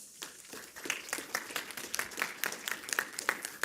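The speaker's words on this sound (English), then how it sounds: "Big round of applause." An audience at a Scala programming conference claps to welcome a speaker, a fairly quiet, brisk patter of many hands that keeps going steadily without a break.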